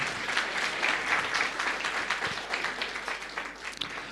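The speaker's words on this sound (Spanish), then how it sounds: "vamos a dar por favor fuertes aplausos al grupo Canto de Esperanza" A church congregation applauds the singing group Canto de Esperanza at a Sunday service, a dense, steady wash of many hands clapping that holds evenly for about four seconds with no voices on top.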